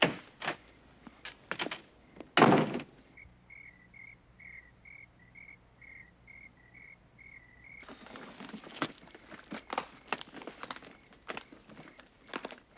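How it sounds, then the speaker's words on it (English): An interior door slams shut with one loud thud, followed by a steady chirping of crickets outside and later a run of soft clicks and knocks nearby. "make sure you lock the door behind me"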